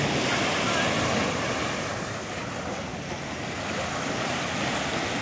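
Sea waves wash onto a beach in Morong, Bataan, facing the West Philippine Sea, giving a steady, loud roar of surf with wind buffeting the microphone throughout.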